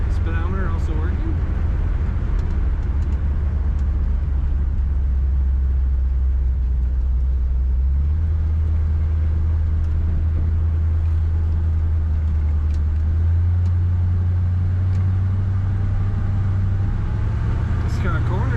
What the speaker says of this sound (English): This car corners pretty well for a 1952 Pontiac.